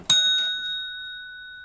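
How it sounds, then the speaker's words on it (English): A small bell is struck once, a bright ding that rings out clearly and decays slowly over more than a second, close and alone. "I do want to ring the bell."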